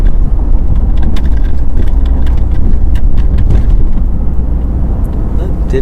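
A 2023 GR Corolla driving over a rough road under construction, heard from inside as a loud, continuous road rumble with rattling and patter throughout.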